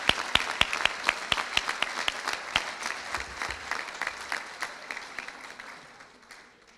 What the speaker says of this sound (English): give a round of applause to my parents